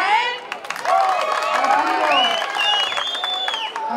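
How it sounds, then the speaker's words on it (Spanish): A rodeo crowd claps and cheers in a steady wash of applause, with whistling or shouting on top. "El aplauso para él."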